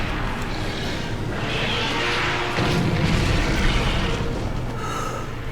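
Cannonballs fire in Monster Hunter 3 Ultimate during the Jhen Mohran village fight, booming in heavy, rumbling blasts over a constant din of game noise.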